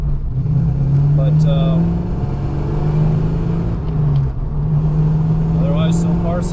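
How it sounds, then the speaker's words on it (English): A 1990 Ford Mustang GT Fox with a swapped transmission drives steadily on a test drive, its engine droning and shifting pitch from inside the cabin. "This car's running nice."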